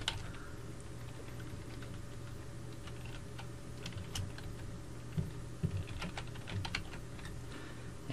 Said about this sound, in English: As soon as you start typing, it says mail to colon, and then you would type the email address.